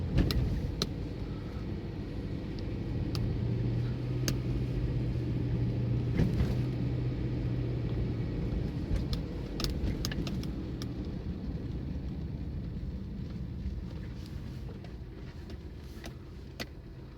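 A car drives along a cold morning road near Yakutsk, heading toward Pokrovsk, a faint steady rumble of engine and tires lasting throughout with a few brief clicks and knocks, no one speaking.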